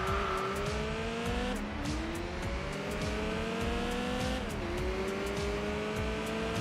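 A racing car engine in Enthusia Professional Racing revs hard and climbs through the gears, with the pitch dropping at each shift, loud and continuous with a steady rumble underneath.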